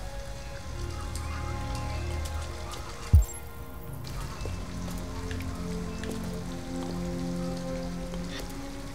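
Steady rain patters on surfaces in the video game Detroit: Become Human, a continuous soft hiss with a single sharp thud partway through and a low musical drone underneath.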